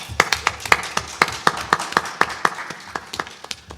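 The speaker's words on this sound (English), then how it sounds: "Please give a round of applause for Bobby Lexx" Convention audience at AwesomeCon clapping for a guest on a live podcast stage, a close, distinct run of sharp individual claps in a quick, slightly uneven rhythm over a softer background of other hands.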